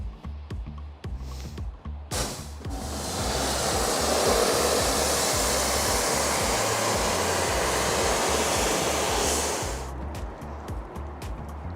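A pressure washer rinses citrus pre-wash cleaner off a car, a loud steady hiss of spraying water holding for about eight seconds between a few short knocks and bursts at the start and end.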